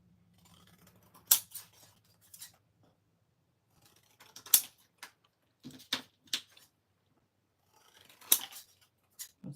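Scissors snip through paper items for a junk journal in a few separated bursts of sharp cutting clicks and rustles, close and fairly quiet, with pauses in between and a faint low hum early on.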